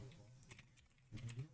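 Quick bursts of computer keyboard typing while entering SQL statements, scattered soft clicks then a denser run of keystrokes near the end, close and fairly quiet.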